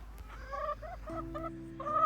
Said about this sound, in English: The only sound is the chickens calling from their pen, impatient to be let out.